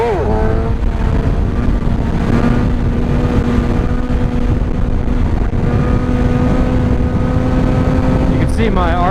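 A Suzuki GSX-R 750 motorcycle engine holding a steady loud drone in third gear around 5,000 to 7,000 rpm, with a rising rev near the end as it accelerates, heard close with wind noise throughout.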